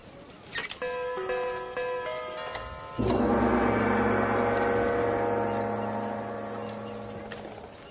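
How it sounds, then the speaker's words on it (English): A bell rings at a door, a couple of bright tones first, then a sustained loud ringing chime that slowly fades over several seconds. "Please ring bell"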